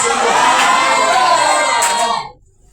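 A crowd at a church evening event shouts and cheers loudly in one sustained burst, then cuts off abruptly into near silence.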